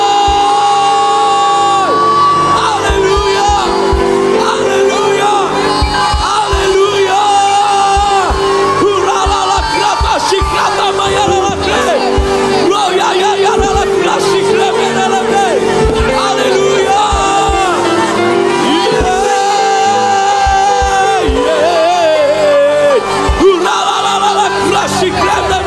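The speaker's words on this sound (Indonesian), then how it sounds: "Kamu berikan sorak-sorai." A church congregation at an Easter worship service shouts and cheers for joy, loud, continuous whoops and yells from many voices layered over ongoing music.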